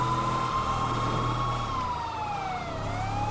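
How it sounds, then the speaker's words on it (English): A police siren in GTA 5 wails steadily close by, its pitch dipping and sliding near the end, over a low engine hum. "Cut sirens now."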